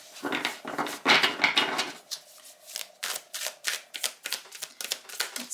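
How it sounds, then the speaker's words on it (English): Tarot cards are shuffled close up, first in a few soft riffling bursts, then in a quick series of crisp, regular flicks and snaps, fairly quiet and with no talking. "Let's shuffle for Cancer."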